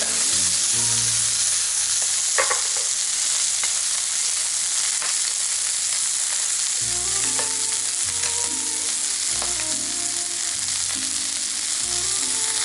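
Lamb chops sizzling in a pan after the heat is switched off, a loud continuous close frying hiss with occasional crackles and a low background hum, no one speaking.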